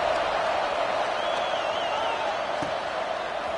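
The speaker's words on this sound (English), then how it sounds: "this crowd is buzzing after that last score" Stadium crowd buzzing in the College Football 26 video game during an Arkansas State versus Tennessee dynasty game, a steady wash of distant crowd noise with one brief thump.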